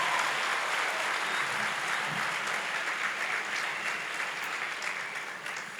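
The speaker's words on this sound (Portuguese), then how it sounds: "Dê para Ele mais uma forte salva de palmas." A church congregation at a church-growth conference bursts into sustained, loud applause that fills the hall and slowly tapers off toward the end.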